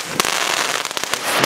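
P1 firecrackers explode on a city street in a quick series of sharp, loud bangs over a steady crackling hiss, with several close blasts in about a second and a half.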